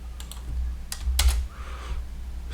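Computer keyboard typing while programming Python code, a few quick clusters of key clicks close to the mic over a low steady hum, with short pauses between bursts.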